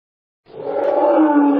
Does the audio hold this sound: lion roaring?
yes